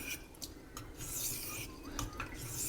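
Knife blade being sharpened on a Naniwa Chosera whetstone, a close, steady rasping rub of steel across wet stone in repeated strokes, with a few brief pauses between passes.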